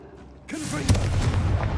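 A Confringo blasting spell in Hogwarts Legacy fires off as one sudden loud boom that rolls into a sustained rumbling blast.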